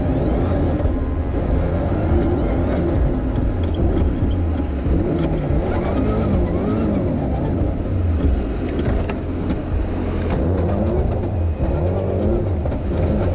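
A rally car at full speed on the Rallye Perce-Neige 2019 stage, its engine roaring loud and steady throughout with continuous driving noise and no break.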